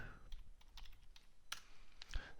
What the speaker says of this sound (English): open your browser and just type java jdk download